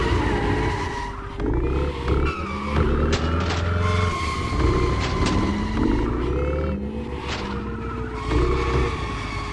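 A car in The Crew Motorfest skids with long wavering tire squeals over a revving, rumbling engine, sliding pitches rising and falling continuously and loudly close up.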